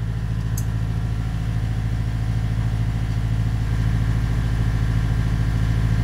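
A boat's inboard engine running steadily at about 2200 RPM gives a loud, constant low drone with an even pulsing rhythm, heard close and alone without voices.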